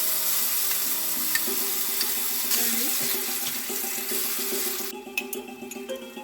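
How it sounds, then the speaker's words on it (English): Steady sizzling and crackling as a palak paneer mixture hits hot oil, a constant frying hiss that settles and fades toward the end, no voices. "Oil is ready, so I am going to pour the mixture first."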